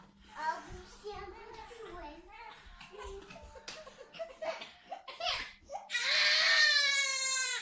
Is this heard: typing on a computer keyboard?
no